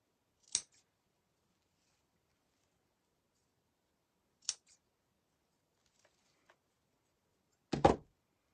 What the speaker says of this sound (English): just cutting a few extra just in case